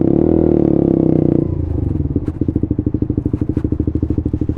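Suzuki GSX-R 125 motorcycle being ridden, its engine droning steadily up close and then easing into a fast, pulsing throb as the revs drop, loud and alone with no voices.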